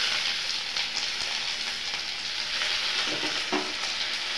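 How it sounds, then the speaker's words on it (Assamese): Onions frying in hot oil for a potato dish, a steady close sizzle with occasional stirring scrapes and a brief louder crackle near the end. "তেলখিনি গৰম হোৱাত মই এতিয়া পিঁয়াজখিনি ইয়াতে দি দিছোঁ।"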